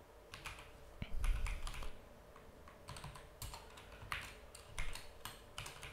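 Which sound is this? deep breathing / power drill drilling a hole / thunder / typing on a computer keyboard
typing on a computer keyboard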